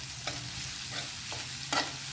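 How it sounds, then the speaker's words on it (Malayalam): Onion and carrot sizzle gently in a pan for Kerala upma while a utensil stirs them, with soft scraping strokes recurring about three times over a steady quiet frying hiss. "ഇനി നമ്മൾ എടുത്തു വെച്ച നമ്മുടെ ക്യാരറ്റ് ചേർത്ത് കൊടുത്ത് നല്ലതുപോലെ ഇളക്കി യോജിപ്പിക്കാം"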